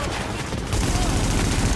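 Rapid, dense gunfire bursts from a firefight in the video game The Division, loud and sustained throughout, with a player's voice talking over it.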